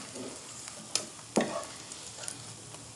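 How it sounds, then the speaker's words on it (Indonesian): Eggs fry for a noodle dish in a generous amount of hot oil, giving a soft, steady sizzle with a few sharp pops and crackles, one stronger burst near the middle. "dadar dulu telurnya seperti ini. Ini aku pakai minyak banyak ya teman-teman, karena biar telurnya mateng"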